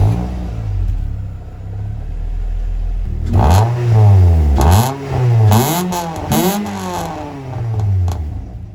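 A Ford Fiesta ST150 with a Milltek cat-back exhaust rumbles at idle, then starts up and is revved several times. The blips rise and fall sharply, with clattery peaks. The car is close and loud, and no one speaks.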